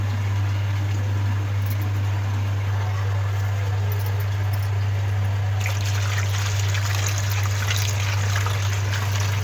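Water pouring into a pan while making sohan halwa, a continuous trickling stream that grows brighter and more splashy partway through, over a strong steady electrical hum.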